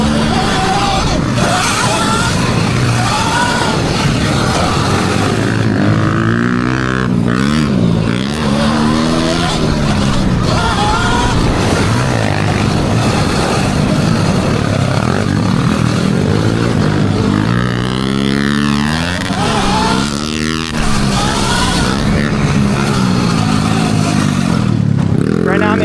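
An electric motorcycle rides hard on a racetrack, diving into corners, with a steady loud whine and wind rush that rises and falls through the turns across the whole stretch, no talking.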